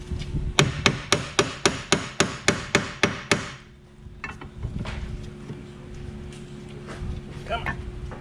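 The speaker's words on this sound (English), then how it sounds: "My hammer." A steady run of about a dozen rapid metallic hammer strikes rings out close by during brake work on a 1987 Dodge Colt, followed by quieter shop noise and faint handling sounds.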